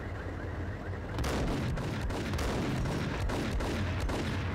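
Heavy gunfire in the Max Payne video game, a rapid string of sharp shots and blasts over a constant loud rumble of game audio, continuing densely across the whole span without speech.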